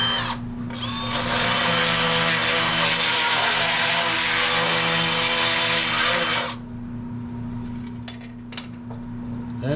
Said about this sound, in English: That is a very unique sound coming off of the drill.